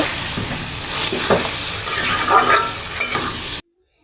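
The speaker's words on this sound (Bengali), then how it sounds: "মাংসটা কষিয়ে নিয়ে সুন্দরভাবে এটাকে হালকা হালকা ঝোল রেখে রান্না করব" Chicken curry sizzles and fries in a pan while a spoon stirs it with scraping strokes, close and steady, ending abruptly.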